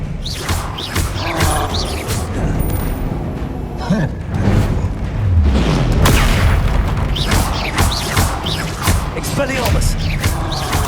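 Spells cast in the video game Hogwarts Legacy, including the disarming spell Expelliarmus, heard as loud booming magical impacts and whooshes in a dense barrage of combat effects, with voice in the mix.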